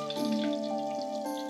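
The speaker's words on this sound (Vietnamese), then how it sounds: "Rồi cái thịt mình không cần chiên chín quá." Pork belly frying in hot oil for Cantonese steamed pork belly, a loud close crackling sizzle with popping spatters throughout, no voices.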